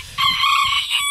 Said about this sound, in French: Ici, j'ai une poule.